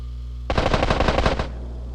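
Grand Theft Auto: San Andreas game audio: rapid bursts of automatic gunfire crackle loudly for about a second, a dense rattling volley that stops abruptly over a steady low hum.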